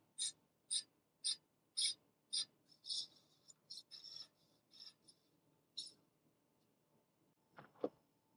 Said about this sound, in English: We're going to spin the wheel again, and then we're just going to keep adjusting this bottom part until we hear no more rubbing.